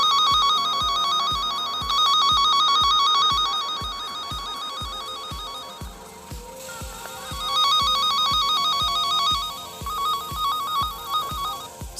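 A V200 Pro breaker finder wand gives a loud, repeating electronic beeping tone. Rapid pulses come in bursts with brief quieter gaps between them.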